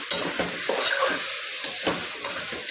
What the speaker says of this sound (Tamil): இப்போ நம்ம சிக்கனை வந்து ஒரு நல்லா கிண்டி விட்டுக்கலாம்